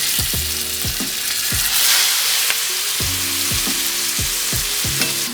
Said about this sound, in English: Once that pan is ripping hot, and I mean smoking, we're just gonna gently lay our T-bone right on down.